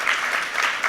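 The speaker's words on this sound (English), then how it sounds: "He deserves a round of applause." A conference audience gives a brief burst of steady applause, a dense wash of clapping heard alone for about a second.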